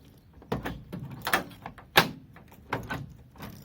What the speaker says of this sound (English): the key should actuate the central locking